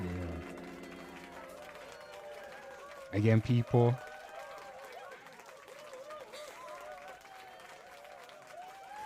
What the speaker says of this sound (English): Give yourselves a round of applause, man.